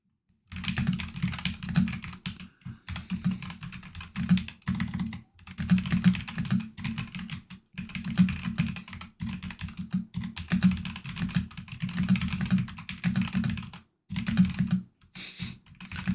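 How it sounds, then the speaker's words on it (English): Rapid typing on a computer keyboard, close up, in quick bursts separated by short pauses. "You guys didn't hear me typing away furiously."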